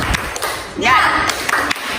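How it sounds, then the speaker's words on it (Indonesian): A teacher and a class of schoolchildren clap the rhythmic 'tepuk semangat' cheer in a classroom, a few sharp, spaced claps mixed with loud chanting voices. "Kita coba sama-sama ya anak-anak. Tepuk semangat."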